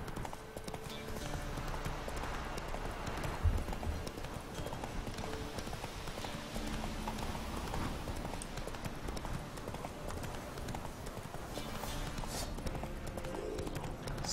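Roach, a horse in the Witcher 3 video game, gallops with steady clip-clop hoofbeats running continuously under a busy game soundscape, with no pauses throughout.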